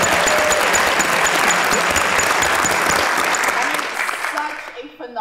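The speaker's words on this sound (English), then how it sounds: "can we give a big round of applause to Scott and Sabathani?" Audience applause for a community organization at a panel event, loud and dense sustained clapping that gradually thins and fades near the end.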